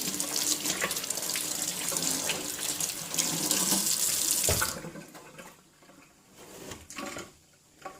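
Tap water runs steadily into a sink while hands are rinsed of homemade biodegradable foaming hand soap, loud and close at first, then easing into quieter, uneven splashing.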